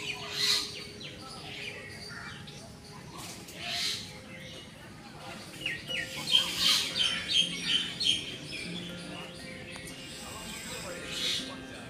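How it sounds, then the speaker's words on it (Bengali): Birds call in the garden of the Sukhchar twelve-temple complex at Sodepur, Panihati, with scattered chirps and squawks and a quick burst of repeated calls midway, over a quiet outdoor murmur with faint voices. "কিছু কিছু পাখির ডাক আপনারা শুনতে পাচ্ছেন।"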